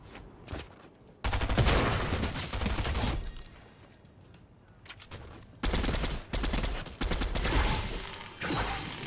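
Bursts of automatic gunfire from several Fortnite bots shooting at once, dense rapid volleys in loud clusters with short pauses between them, no talking heard.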